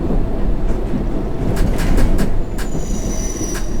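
A London Underground train in the World of Subways 3 simulator game rumbles steadily along the tracks with a constant low roar, while metallic wheel squeals and clicks rise over it. No one speaks.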